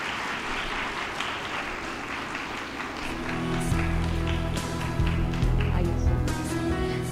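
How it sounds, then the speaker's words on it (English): Audience applause for a minister at a women's empowerment event on MSMEs and start-ups, steady clapping throughout that swells louder in the second half with some close, distinct claps. "I would also like to invite a round of applause, please,"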